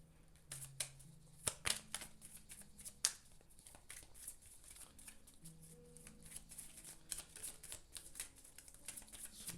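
Tarot cards are shuffled close up in quick, light bursts of riffling and soft slaps, the taps irregular and fairly quiet over a low background hum.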